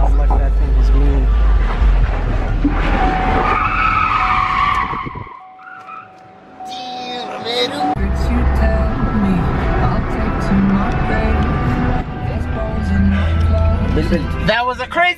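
A Corvette and a Cobra race, with loud roaring engines and squealing, skidding tires up close, a brief lull midway, and excited voices talking over the noise.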